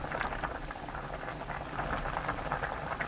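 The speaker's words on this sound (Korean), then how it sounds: "표고버섯, 떡국떡 넣고 센 불로 끓입니다." Tteokguk with shiitake mushrooms and rice cakes boiling hard on high heat, a dense, steady bubbling and popping roil that stays close and continuous throughout.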